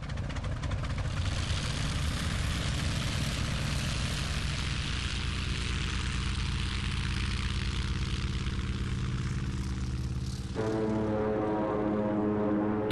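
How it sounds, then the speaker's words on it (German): Propeller engines of WWII fighter planes roar steadily as they take off from American aircraft carriers, a loud, continuous droning that shifts in pitch near the end as another aircraft passes. "Auf den drei amerikanischen Flugzeugträgern machen sich die Piloten bereit. Sie starten gegen einen zahlenmäßig weit überlegenen Feind."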